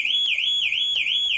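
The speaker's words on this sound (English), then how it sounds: "I forgot there's an active alarm and I have to wait the cooldown time on the alarm." The active car alarm on a 2018 Ford Ranger sounds during key programming: a loud, close, high warbling siren tone rising and falling in a regular repeating cycle, heard alone.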